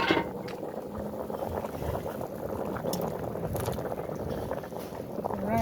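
A pot of Jamaican-style chicken soup boils with a steady bubbling wash as pieces of yam are dropped in, giving a few soft splashes and liquid churning up close, fairly quiet and without speech.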